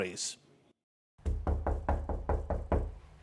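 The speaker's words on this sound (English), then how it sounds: "No one answered the door at the home of Jay Ketsick." Eight firm knocks on the door of a house in The Villages, Florida, close and loud in an uneven rhythm after a brief moment of speech and silence.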